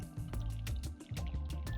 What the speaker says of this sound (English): So now we're going to take the sauce and strain it through the sieve.